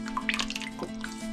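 Light olive oil pouring into a cooking pot, a brief liquid trickle with small dripping splashes over a steady kitchen background hum.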